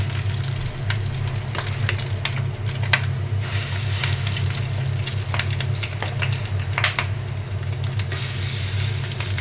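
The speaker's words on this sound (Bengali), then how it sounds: "এবার আমি স্পুন দিয়ে বড়া স্টাইলে ভেজে নিব।" Spoonfuls of bora fritter batter fry in hot oil, giving a continuous loud sizzle and crackle with occasional scraping and clinks from the spoon.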